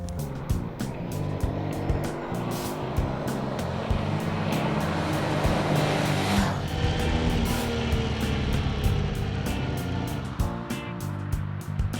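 A Honda Deauville motorcycle being ridden, a steady engine drone with wind rush and a rise in revs midway, continuous and fairly loud, no talk.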